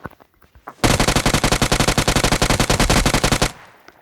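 Automatic gunfire in PUBG Mobile on the Livik map, a loud, rapid burst of evenly spaced shots lasting about three seconds after a brief quiet lead-in, then cutting off sharply.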